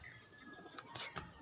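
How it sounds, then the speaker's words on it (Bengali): A male pigeon coos softly in a short, faint burst of low calls close by, with no speech. "নর পায়রা একটা দেখো ডাকছে।"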